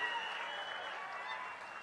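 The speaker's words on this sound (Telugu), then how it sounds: "గట్టిగా చప్పట్లు కొట్టి మీరందరూ కూడా అభినందించాల్సిన అవసరం ఉంది." Dense, steady applause from a large audience at a political event with CM Chandrababu, a continuous wash of clapping heard from a distance without letting up.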